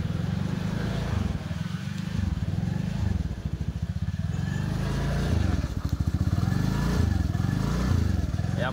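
Overhauled Suzuki Burgman scooter engine idles close by with a steady low putter that rises in a couple of brief revs, while a person talks over it.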